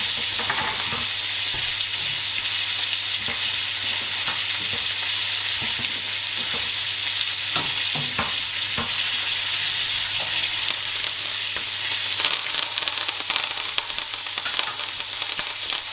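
Garlic and lemon thyme fry in a pan, a bright, constant sizzle with occasional scraping stirs and light clicks, close and steady for the whole stretch with no talk.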